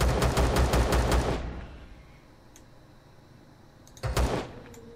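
Pistol fire in the space survival game Empyrion Galactic Survival, a fast burst of several sharp, loud shots in rapid succession, then a pause with a faint mechanical click, and one more short burst of shots near the end.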